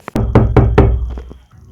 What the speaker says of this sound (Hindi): तभी दरवाजा नॉक करने की आवाज आती है।